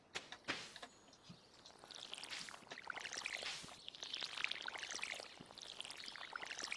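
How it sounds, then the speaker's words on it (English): Watering can pouring onto crops in the Stardew Valley farming game: a few short splashy pours repeated in quick succession, quiet and alone with a faint chirp in the background. "But going to water my plants."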